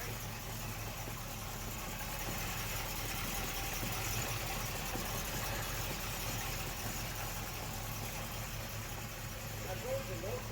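A 1968 Oldsmobile Cutlass S convertible with its original engine idles steadily, a continuous low rumble that stays even throughout, while people talk nearby.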